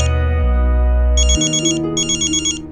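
A telephone ringtone for an incoming call plays loudly and alone, a low sustained tone giving way to two bright warbling bursts of ringing.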